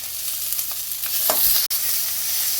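Chopped onion and green chilli sautéing in a pan with popped mustard seeds for murungai keerai kuzhambu, a steady loud close sizzle with a few stirring scrapes and one sharp clack, with no talking.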